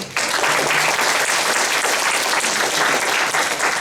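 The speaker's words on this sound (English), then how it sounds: "please give them a warm round of applause" Warm, dense applause from dinner guests at a mentor dinner, starting abruptly and holding steady and loud with no talk over it.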